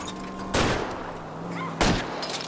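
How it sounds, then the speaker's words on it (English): Gunshots fired at a fleeing car's tires in the L.A. Noire video game: two sharp, loud shots about a second apart over a steady engine and road hum. "I'll try to shoot out his tires."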